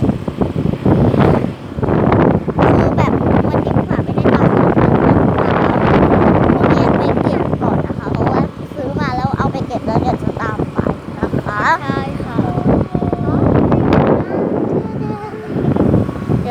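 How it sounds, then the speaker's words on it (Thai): Wind buffets an outdoor microphone in loud, rumbling gusts for the whole stretch, with someone talking through it. "ขอให้มีเสียงก็พอเนาะ คือแบบเสียงลมนี่"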